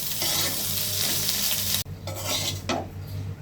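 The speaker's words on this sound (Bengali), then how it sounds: "এই তো খুব সুন্দরভাবে ডিম আলু সব কিছু ভাজা হয়ে গেছে।" Egg and potato frying in a pan while being stirred, a loud steady sizzle with spatula scrapes, briefly cut off then resuming with clinks against the pan.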